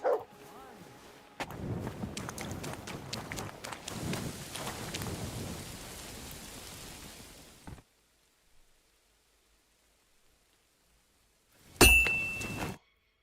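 Dog barking in the medieval video game Kingdom Come: Deliverance II, heard amid rain and thunder, with a voice speaking around it. The sound cuts out to near silence, then a short loud burst returns.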